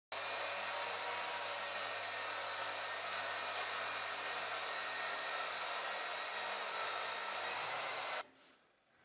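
A track saw rips steadily through a wood board for about eight seconds, a loud, sustained high whine and buzz that cuts off abruptly as the blade stops, leaving a brief quiet tail.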